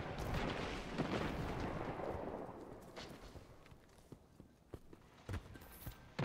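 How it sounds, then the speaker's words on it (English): The Loquitor IV, a legendary auto rifle in the video game Destiny 2, fires a loud sustained burst that fades out, followed by a few scattered sharp clicks and thumps. "I like the way the weapon sounds"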